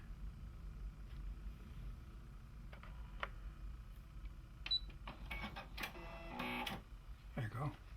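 A sewing and embroidery combo machine with a 4x4 hoop whirs and clicks as it stops with the needle up, followed by mechanical clunks and a short thread-cutting burst, close by with a person talking.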